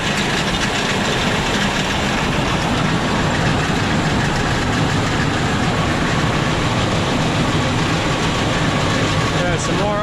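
New Gehl silage wagon's chain-driven mechanism racing at idle gives a loud, continuous, dense rattling clatter with a steady engine drone underneath.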